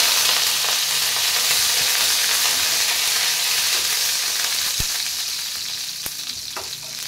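Curry leaves fry in hot oil with a loud, steady sizzle and crackle, a few sharp pops and clinks near the end.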